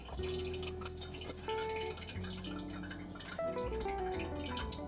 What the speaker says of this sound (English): I'm dripping water into the oil. That's why it's making noise.